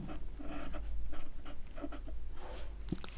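Marker or chalk strokes writing math equations on a board, a run of short scratchy strokes close by with no talking.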